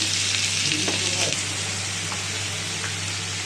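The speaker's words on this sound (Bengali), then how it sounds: "মশলাটা ভালো করে কষিয়ে নেব" A spice paste of tomato and ginger-garlic fries in a pan as a dense, steady sizzle up close, with a few faint stirring scrapes and a low background hum.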